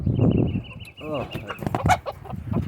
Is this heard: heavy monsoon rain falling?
no